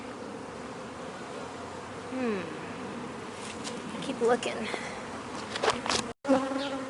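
Honeybees hum and buzz densely around a hive frame, a steady close drone with individual bees whizzing past, while a person speaks briefly over the buzzing.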